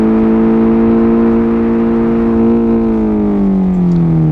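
Car engine in the video game BeamNG.drive, a loud, steady high-pitched buzzing whine held at constant revs that slowly sags in pitch toward the end, with no speech over it.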